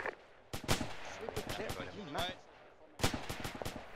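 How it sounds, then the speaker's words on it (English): Gunfire in the military video game Arma 2 during a squad operation, with several sharp cracking shots in two bursts, loud and close, while a radio-style voice talks between and under them. "We're providing covering fire where necessary."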